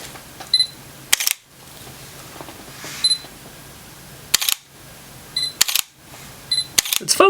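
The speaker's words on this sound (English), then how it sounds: "Listen to that shutter." Sony A7II camera shutter clicks fire off one at a time at uneven intervals, five or six sharp mechanical snaps, close and loud over a quiet background.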